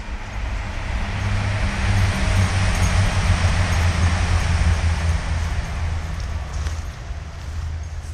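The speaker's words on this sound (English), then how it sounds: "A lot of trains today." A train passing near woodland, a continuous broad rumble and rushing roar that swells and holds steady, moderately close, with no voices over it.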